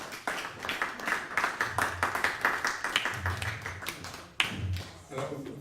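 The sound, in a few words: audience applause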